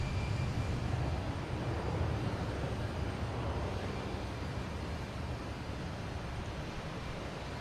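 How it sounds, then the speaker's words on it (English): A JetBlue Airbus A321 airliner takes off from Boston Logan Airport, heard as a sustained, broad jet roar that is loudest at the start and eases slightly as it goes on, with no talk. "we got a JetBlue A321 heading to Cancun"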